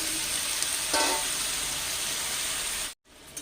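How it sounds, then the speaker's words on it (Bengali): Fish heads and boiled kochu stalks sizzle in a frying pan for a Bengali kochu chhyachra, a steady close hiss of frying that cuts off abruptly near the end. "মাছের মাথাগুলো দিয়ে দিচ্ছি এবার সেদ্ধ করে রেখেছিলাম কই ডাঁটাটাও এর মধ্যে দিয়ে দিচ্ছি"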